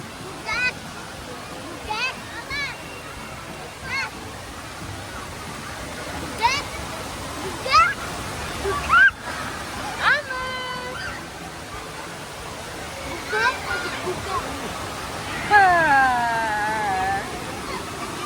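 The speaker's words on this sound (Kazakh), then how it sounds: "ана шелекке су жиналады да, потом резко төгіледі, күшті болады" A large bucket at a swimming pool fills and tips water down, making a constant broadband rush and splash that runs throughout, with children's voices and shouts over it.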